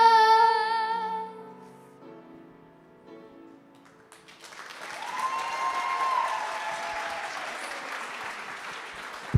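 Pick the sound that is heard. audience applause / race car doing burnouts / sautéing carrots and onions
audience applause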